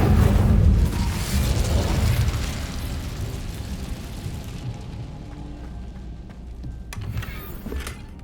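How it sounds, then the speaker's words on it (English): In Hogwarts Legacy, an Incendio fire spell goes off as a loud, close, booming burst that fades into a rumbling crackle, with a few fainter pops following it. "Incendio!"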